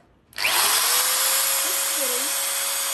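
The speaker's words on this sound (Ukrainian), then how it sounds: "Далі, як він працює, нажимаємо старт." A TRESZER TID2 electric drill switches on abruptly and runs at a loud, steady high whine, with a brief voice murmuring under it partway through.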